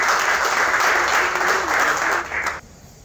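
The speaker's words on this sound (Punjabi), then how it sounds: "ਮੈਂ ਸਾਰਿਆਂ ਨੂੰ ਬੇਨਤੀ ਕਰਦਾ ਕਿ ਤਾੜੀਆਂ" Sustained applause from an audience at a kabaddi awards ceremony, steady and dense for about two and a half seconds before cutting off abruptly.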